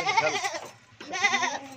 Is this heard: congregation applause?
no